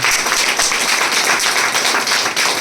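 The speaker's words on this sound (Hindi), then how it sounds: "एक बार आप अपने लिए जोरदार ताली बजा दीजिए" Dense, steady applause from an audience at a motivational speech, many hands clapping together at close range for the whole stretch without letup.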